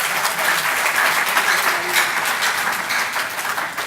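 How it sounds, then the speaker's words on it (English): Audience clapping at the first East African summit for OneCoin and DealShaker: a sustained, even roar of many hands, moderately loud and unbroken for several seconds, with no talk over it. "Please give them a round of applause"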